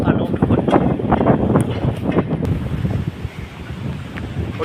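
Wind buffets the microphone during heavy rain at Bueng That Luang in Vientiane. The roar is loud and gusty, and a person talks over it.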